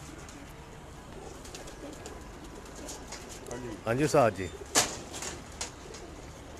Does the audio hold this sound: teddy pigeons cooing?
yes